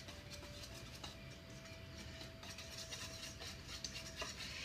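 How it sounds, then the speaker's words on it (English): Dry cornbread ingredients whisked together in a bowl make a steady, rapid, close scratching and stirring patter that runs the whole time with no talking. "I'm going to whisk all the dry ingredients together"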